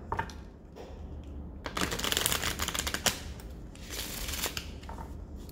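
Tarot cards being shuffled in quick riffling bursts, a soft rustling flutter that swells and fades several times, close by with no talking.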